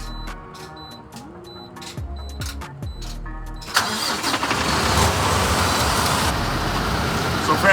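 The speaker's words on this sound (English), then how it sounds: "got the loco boost and see if we can get the truck to start up" A truck engine cranks with a booster pack, a few short whirring starter attempts with clicks, then catches and roars into a steady loud idle up close.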